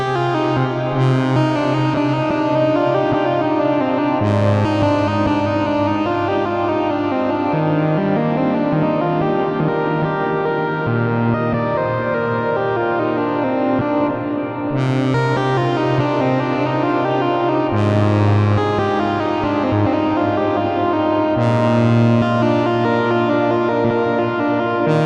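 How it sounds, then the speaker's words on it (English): A Eurorack-style synth patch built in VCV Rack and run through the Plateau reverb sounds as sustained, layered tones, with new notes entering every few seconds over long, washing reverb tails. It stays steady and loud throughout, with no voices. "Now we should get a wonderful reverb on this."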